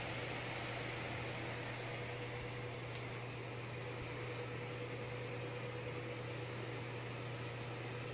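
Cooling fan of a Galax GTX 980 Hall of Fame graphics card, newly installed in a PC, running as a steady, fairly loud whooshing hum with a low drone under it, constant throughout.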